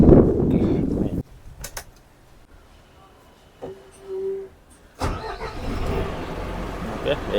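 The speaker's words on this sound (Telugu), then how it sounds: "ఒకసారి ఈ వెహికల్ అయితే స్టార్ట్ చేసి చూద్దాం మనం ఇప్పుడు." Brand-new Eicher MG Glider seat-cum-sleeper AC bus engine starting, a brief starter crank and catch, then a steady, close diesel idle rumble, with someone talking before and after.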